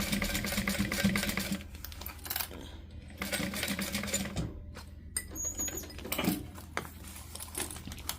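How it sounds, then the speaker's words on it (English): Sewing machine running in bursts as it topstitches 1/8 inch along and across a fabric seam, with brief pauses between runs while the fabric pivots. "I'm going to top stitch across this seam at 1/8 of an inch"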